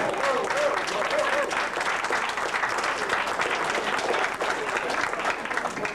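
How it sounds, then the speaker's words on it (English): Sustained applause from a high school class reunion audience, steady and dense throughout, with some voices and cheers mixed into the clapping. "Let's give them a big round of applause."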